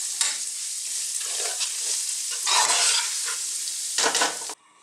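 Seasonings being stirred into a simmering meat sauce in a pot on the stove, a steady close scraping and bubbling sizzle with brief louder swirls, no voices.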